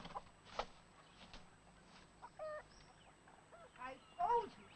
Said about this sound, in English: I told you to keep them chickens out of here.